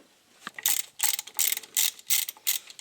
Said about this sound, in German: Der Rest können wir jetzt mit einer kleinen Ratsche machen.